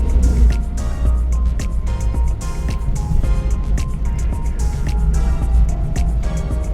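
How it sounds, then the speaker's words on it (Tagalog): The engine of a Suzuki DA17W turbo 4x4 with its muffler removed runs at idle, a loud, close, deep, continuous rumble with a steady throb and faint ticking on top. "So sa makina normal naman yung may parang konting ingay."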